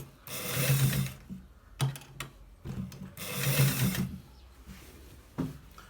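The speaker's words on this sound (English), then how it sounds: "So guys, we are stitching it." A sewing machine stitches a collar shirt in bursts, two longer runs of rapid mechanical whirring broken by short clicks and pauses, close and fairly loud.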